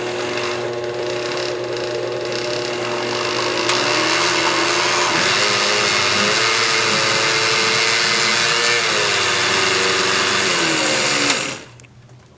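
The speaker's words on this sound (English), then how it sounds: "now let's just turn the blender on" A blender runs continuously at high speed with a steady motor whine for about eleven seconds, then switches off and winds down.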